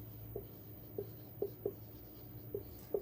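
Chalk or marker writing on a board during a chemistry lesson, heard as about six faint, short taps and strokes spaced irregularly over a quiet background hum.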